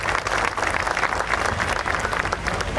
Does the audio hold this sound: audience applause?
yes